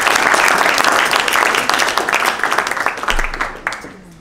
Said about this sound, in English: Let's give Fiona a massive round of applause.